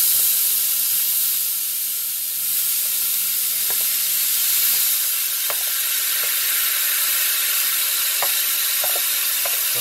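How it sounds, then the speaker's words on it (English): Chopped small vine tomatoes sizzling and hissing in a hot pan of curry chicken, a steady loud frying crackle with occasional pops and light clicks from stirring, no talking. "Now we're going to add the chopped tomatoes."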